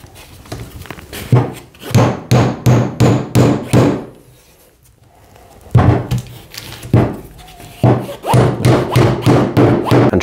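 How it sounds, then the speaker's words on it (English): Rapid, sharp hammer taps driving wooden canvas wedges into the corners of a stretcher frame, struck in quick bursts with a brief pause midway, close and fairly loud. "we'll gently tap them in with a hammer"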